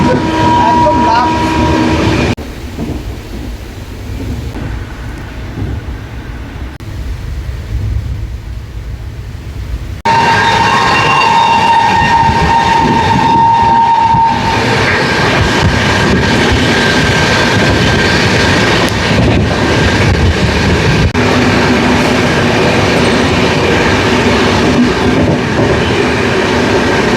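A night train travelling from Ranaghat toward Tarapith rumbles steadily from onboard, loud rail noise with clattering wheels and shifting tones, and a voice talks over it at times.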